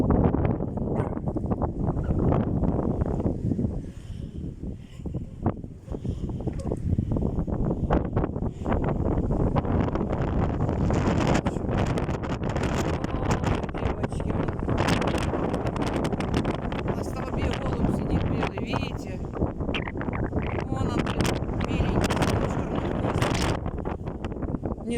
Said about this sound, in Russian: Не знает, как спрятаться от ветра.